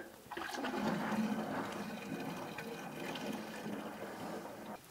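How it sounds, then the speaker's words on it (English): A 2.7-litre California ale yeast starter poured into a fermenter for a pale ale homebrew, a continuous close gurgling liquid rush that holds steady for several seconds. "I'm just going to carefully pour it into our fermenter."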